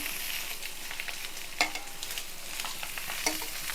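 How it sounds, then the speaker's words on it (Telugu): Eggs frying in a pan with pepper, a steady close sizzle and crackle with a couple of brief clinks of a utensil, no talking. "చక్కగా వేగితే ఒక సైడ్ వేగిన తర్వాత మళ్ళీ మనం ఇంకో సైడ్కి తిప్పుకోవాలి"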